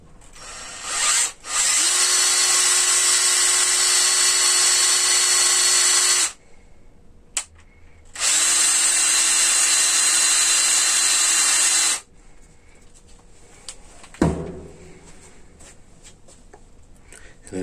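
A 12-volt motor-driven linear actuator runs in two long steady whirring stretches separated by a brief pause, loud and close, then stops, followed by a faint clunk.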